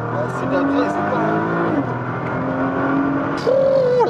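Nissan GT-R engine revving loudly nearby, with rising and falling pitch sweeps and a sharp climb near the end, while people talk over it.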